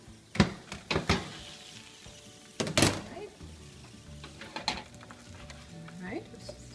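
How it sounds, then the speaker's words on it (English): Metal utensils clatter and scrape against a pan while mixed roasting vegetables are turned, with several sharp knocks, shuffling and soft sizzling in between. "Halfway to cooking, we're ready to turn these vegetables."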